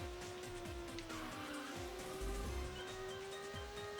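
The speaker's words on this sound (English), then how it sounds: "literally the noise of the taxi is like a fucking race car" Taxi engine in the PSP video game My Taxi, a high, thin race-car-like whine holding a steady pitch with slight rises, under faint repeating game effects and a low thump near the middle.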